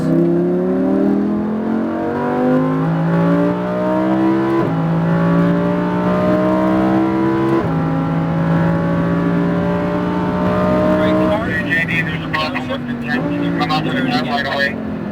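A Lamborghini Huracan on a track, its engine climbing through rising revs in long pulls with brief drops at gear shifts, loud and close, then turning rough and choppy near the end, with an instructor's voice talking over it.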